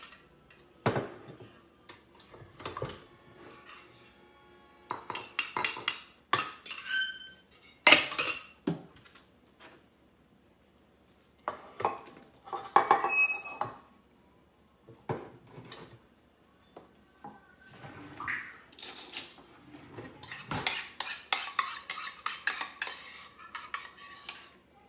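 A utensil clinks and scrapes around a bowl as eggs and yeast are mixed into bread dough, in irregular close bursts of clattering separated by short pauses.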